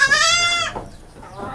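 A breeding buck goat, once a contest animal and now somewhat sick, gives a single loud, strained, harmonic-rich bleat up close, then falls quiet over faint background noise.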